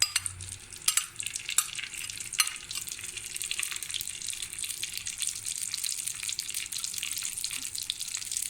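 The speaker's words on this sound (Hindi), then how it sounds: "अब मैं इसमें घी डालूंगी" Ghee going into a pan while making egg halwa gives a steady, bright sizzle with a few sharp splutters and clinks early on, close and continuous with no talking.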